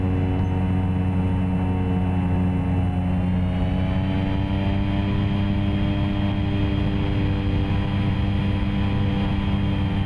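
A simulated aircraft engine in the X-Plane 11 flight simulator drones steadily after landing, a loud, constant tonal hum with layered harmonics and no talking.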